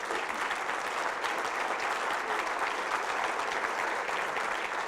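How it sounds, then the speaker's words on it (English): Sustained applause and cheering from a crowd at a regional public awards address, dense and steady throughout, honoring the Public Employee of the Year from the Pikes Peak Regional Building Department. "I think he's got a cheering section over there."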